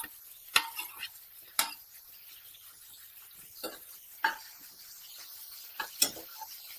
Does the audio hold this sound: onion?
yes